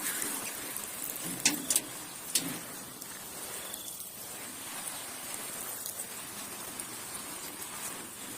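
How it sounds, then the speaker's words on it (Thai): Rain falls steadily with a constant patter, broken by a few brief sharp drips or knocks near the start. "หรือว่าฝนตกนะครับ"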